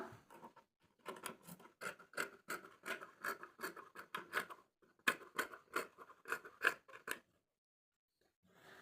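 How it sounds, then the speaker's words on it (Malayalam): Scissors snip repeatedly through marked fabric for a nighty neck piece, a steady series of crisp close cuts with a short pause midway, ending in silence. "ഇനി മാർക്ക് ചെയ്തേക്കടെ നമുക്കങ്ങ് കട്ട് ചെയ്തെടുക്കാം"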